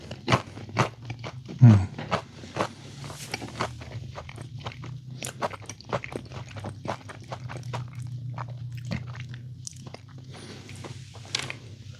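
Crunchy Pizza Hut food, breadsticks dried out on a heating pad, is bitten and chewed close to the mic, with sharp crunches and crackles in an irregular rhythm over a low steady hum.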